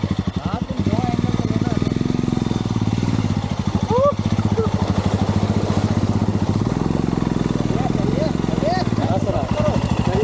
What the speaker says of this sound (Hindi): फिर हमने ऊपर वाले का नाम लेके बाइक पानी में उतार दी।